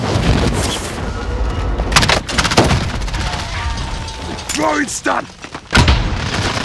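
Air strike explosions in the video game Warzone land as several sharp booms and bursts among gunfire, with players talking over the action.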